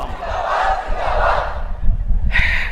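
A crowd at an Islamic religious gathering chants takbir in two loud, rolling unison calls, a big roaring mass of voices in a large space, followed by the start of a single amplified voice.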